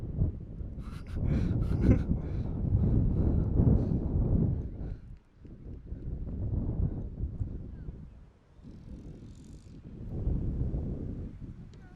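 Strong outdoor wind buffets the microphone in heavy, rumbling gusts that rise and fall over several seconds, with brief quieter lulls and faint voices in the background at a pickup game.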